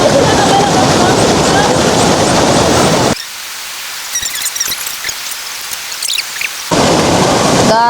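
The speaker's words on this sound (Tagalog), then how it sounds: "it's raining so much" Heavy rain pours down at the Panigan river, a loud dense roar that cuts out abruptly midway, leaving quieter splashes and chatter, then surges back at full strength; voices talk during the lull.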